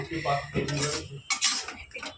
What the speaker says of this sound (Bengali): এবার এটাকে ভালো করে নেড়ে নেব